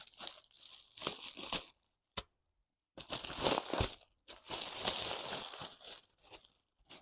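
Torn AliExpress parcel packaging being opened close by, with bursts of crinkling, tearing and crunching plastic separated by short pauses, no talk.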